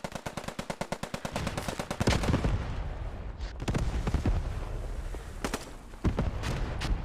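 Fierce video game battle around a hotel in a tournament match, opening with a rapid, evenly spaced burst of automatic gunfire, then heavy booming artillery impacts and explosions rolling in close and loud, mixed with scattered shots.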